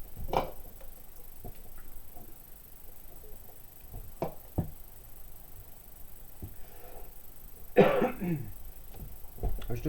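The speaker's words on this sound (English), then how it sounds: "I was just about to say I'm doing really well without coughing. And then I cough." A few sharp coughs and throat-clearing bursts scattered through a quiet room, with a louder, rougher cough near the end.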